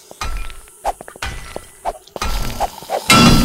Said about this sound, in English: I'm swinging a fire axe on a mattress